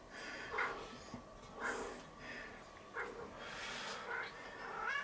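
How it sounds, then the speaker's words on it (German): Cats meowing around an outdoor grill while a mother cat is present, several faint mewing calls spaced out over a steady background hiss, distant and quiet. "Die Katzen sind am Rotieren und miauzen rum."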